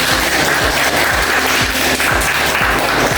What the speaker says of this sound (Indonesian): kita beri aplaus pada kelompok 2 yang telah memberikan